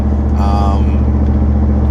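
Inside the cab of a pickup truck fitted with a Corsa side exhaust, a steady, loud, low engine drone runs throughout, with a brief voice over it.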